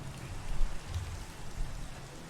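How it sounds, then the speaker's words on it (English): Rain pattering steadily during a thunderstorm in Minecraft's ATM7 Skyblock modpack, moderate and even with faint low rumbles underneath and no talking. "Oh, it's a thunderstorm too."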